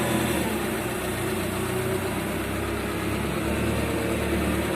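A two-ton Japanese forklift's engine runs at a steady idle close to the microphone, a constant loud droning hum with vibration and no change in pitch, no voices present.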